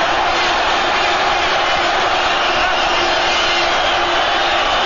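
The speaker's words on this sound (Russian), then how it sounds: "вот посмотрите, как спартаковцы, спартаковские болельщики приветствуют" Massive stadium roar from Spartak Moscow supporters greeting the first goal against Rubin Kazan, a dense, sustained wall of chanting and shouting that stays loud and unbroken from start to finish.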